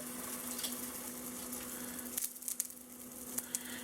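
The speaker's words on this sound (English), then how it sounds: "We're just going to throw them in this pan on both sides of this skillet for about 20 seconds on each side" Flour tortillas toast in a hot, dry skillet: a faint, steady hiss with a low hum beneath, broken by a few soft clicks and pops near the end.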